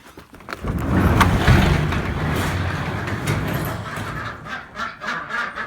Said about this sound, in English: then I'll let out the ducks